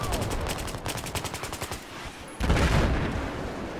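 Rapid automatic gunfire in a video game, a dense rattling burst of repeated shots that drops off briefly before a louder, heavier burst of fire takes over, with no talking.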